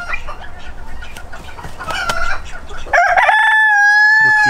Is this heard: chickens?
yes